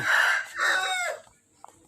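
A fighting cock rooster crows loudly and close at a mixed farm in Sam Khok, Pathum Thani, one full two-part cock-a-doodle-doo call that fades out, followed by quiet.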